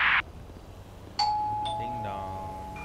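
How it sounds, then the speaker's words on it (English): A doorbell rings in the police game LSPDFR, a clear two-tone chime with a long ringing decay, preceded by a brief burst of noise. "Ding dong."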